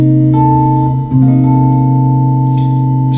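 A sustained chord built from the first four notes of a twelve-tone row rings out steadily, with a brief shift in the voicing partway through before the notes settle and hold, sounding alone.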